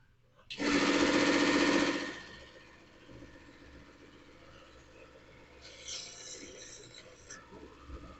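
A 3D-printed TIE Phantom model part is sanded or ground with a small powered tool, which gives a loud whirring burst of about one and a half seconds. Quieter scraping and handling noises follow, with a shorter buzz near the end.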